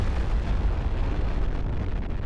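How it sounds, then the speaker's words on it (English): A nuclear bomb detonates in the modern military strategy game Broken Arrow, a dense, sustained low roar of explosive rumble that fills the whole stretch, loud and continuous without any voices. "That would be the nuke."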